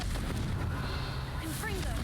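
A Confringo blasting spell goes off in Hogwarts Legacy, a low rumbling blast with crackling combat noise, and a voice is heard over it.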